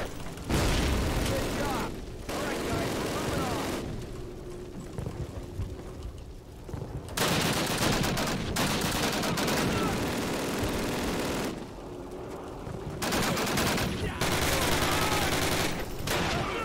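Call of Duty battle din with dense gunfire bursts and grenade blasts, loud and near, broken by short quiet gaps, with people talking and shouting over the fighting.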